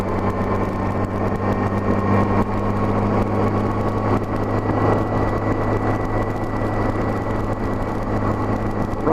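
Honda GL1200 engine running steadily under light throttle on a climb during a test ride, a continuous droning hum with wind rush, loud and close throughout.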